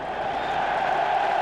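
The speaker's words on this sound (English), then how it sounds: "the big cheer in the background is for the sight of Thomas Brolin, the Swedish international" A football crowd at Leeds United versus Birmingham City in 1995/6 roars as Thomas Brolin appears, a steady, distant swell of cheering filling the stadium.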